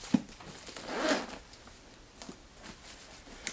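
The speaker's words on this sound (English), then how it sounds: "Oh, it's caught on the thingy, but it's double zip." A double zipper on a bag is pulled open in short rasping runs, the longest near the start, followed by softer scattered clicks and handling noises, close and fairly faint.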